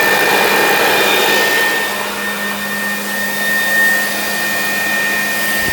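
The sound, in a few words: DIY pond aerator motor blowing air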